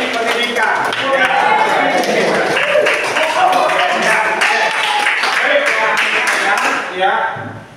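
A high school classroom breaks into a burst of clapping, with quick scattered claps running under overlapping voices before trailing off at the end.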